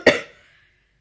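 A single short, husky cough from a woman sick with a flu-like illness, close to the microphone, followed by a brief fading breath and then quiet.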